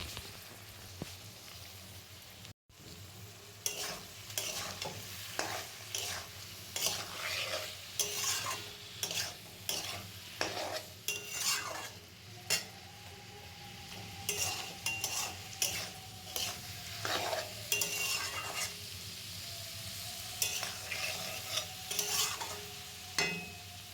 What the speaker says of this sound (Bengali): আর দেওয়ার পর কিছুক্ষণ এইভাবে আমি কষিয়ে নিচ্ছিলাম বা ভেজে নিচ্ছিলাম